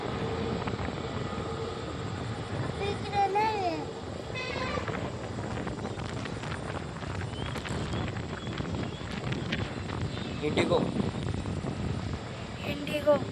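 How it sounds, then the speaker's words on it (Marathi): An IndiGo airplane taking off near Navi Mumbai International Airport produces a steady, distant engine roar that persists under people talking. "आता विमान आपण हा पाहू शकता उड्डाण घेईल आता"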